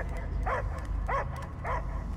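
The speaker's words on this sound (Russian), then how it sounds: "Я только лай слышу." Three evenly spaced dog barks from the video game Marvel's Guardians of the Galaxy ring out about half a second apart, moderately loud over a low rumbling game backdrop with no talk.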